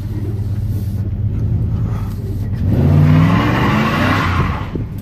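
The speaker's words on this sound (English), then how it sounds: "The truck still lays rubber." A pickup truck laying rubber in a large park, tires squealing over a loud, rising engine roar that swells and fades, close by, with no talk.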